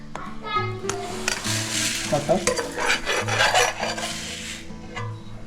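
Rice dry-roasting in a pan is stirred continuously, giving steady, close scraping and rasping over a low, tonal background hum for the full stretch.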